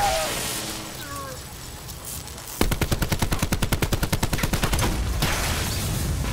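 Rapid automatic gunfire in Call of Duty: Black Ops 4, a loud burst of evenly spaced shots lasting a few seconds after a quieter stretch with faint game sounds and voice.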